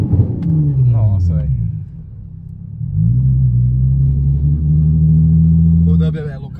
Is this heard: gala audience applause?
no